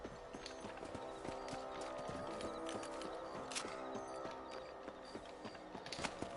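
Horse hooves clip-clop steadily in Red Dead Redemption as riders set out across open ground, a brisk continuous trot under a faint game ambience, with no speech.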